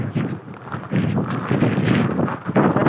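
Strong wind on a hilltop at Sarasgad Fort rumbles and gusts across the microphone in a continuous roar, swelling and easing without a break.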